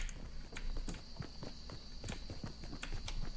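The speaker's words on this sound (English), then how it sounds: "I hear footsteps over here." Footsteps in the Fortnite video game, a quick run of rhythmic thuds and scuffs close by, overlaid with game ambience and a steady high-pitched tone.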